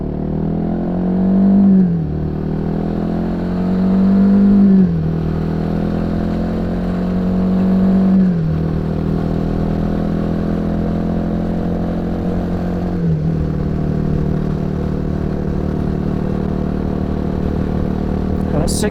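Royal Enfield Himalayan 450 motorcycle climbing a hill in sixth gear at about 90 km/h, its steady engine drone rising in pitch over several long pulls, loud and close with wind rush throughout.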